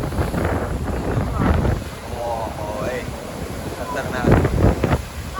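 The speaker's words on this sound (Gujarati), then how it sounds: "આ 20 ફૂટ ઊંચો ઉછળો છે આ દરિયાનો મોજો" Rough sea waves roll and crash in strong wind, with gusty microphone buffeting and surging wash close by, and people talking and exclaiming over the roar.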